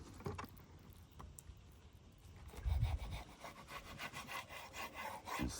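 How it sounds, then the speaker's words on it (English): A knife saws through steak, cutting it into strips: close, irregular rasping strokes with a brief heavier thud partway through, quiet and without talk. "We just want to cut our steaks up."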